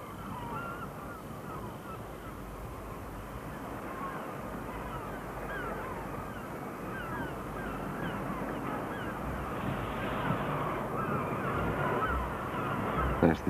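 Seagulls call by the seashore, a continuous, moderately loud chorus of harsh overlapping cries that holds steady throughout.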